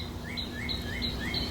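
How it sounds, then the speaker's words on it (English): A northern cardinal sings a series of rising, slurred whistles, four notes in steady rhythm, moderately clear over a faint constant hum. "That's a northern cardinal."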